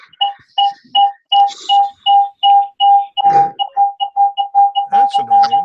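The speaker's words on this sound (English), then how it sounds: "Somebody's got some beeping going on" Repeated electronic beeping from a participant's unmuted microphone on an online webinar call: a loud, evenly spaced series of short tonal beeps, close and persistent, with brief background noise and a voice breaking in between beeps.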